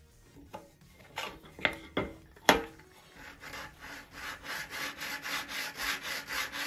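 Wood is lightly sanded by hand with sandpaper while building a model P-40E Warhawk: a few sharp scrapes, then a steady run of even, soft rubbing strokes, close and quiet.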